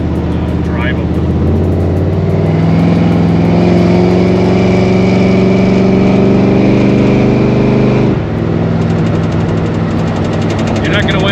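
A square-body Chevy dually truck with a 454 big-block V8 and Edelbrock 1411 carburetor driving, a loud steady engine drone that rises under throttle and drops near the end, heard from inside the cab.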